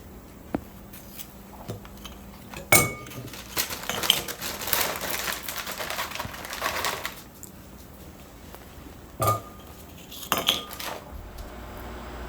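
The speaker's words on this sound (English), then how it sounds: "You're gonna remove the cookie and you're gonna place the cream into this bowl." Oreo cookies are pulled apart and the cream scraped into a bowl, giving scattered clinks and taps of a utensil against dishware and a busy stretch of scraping and rustling, close and fairly quiet.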